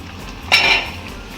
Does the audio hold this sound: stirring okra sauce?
yes